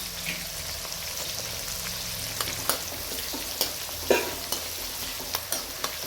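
Ginger, chilli and garlic sizzle in hot oil with pigeon peas and green peas for undhiyu, a steady frying hiss broken by sharp spoon taps and stirring clicks.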